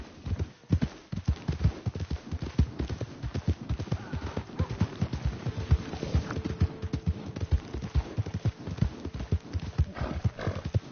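Rapid hoofbeats pound in a steady galloping rhythm, close and strong, with a horse's whinny rising over them partway through, in a PS4 video game.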